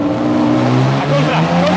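Car drifting during a driving lesson, its tires sliding while the engine holds a loud, steady, high-revving drone, close and continuous for a couple of seconds.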